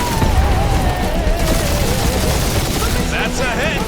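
Spaceship blasters fire rapidly during a space dogfight in Marvel's Guardians of the Galaxy video game, with loud continuous bursts, booms and a falling engine whine, and game voices chattering over the barrage.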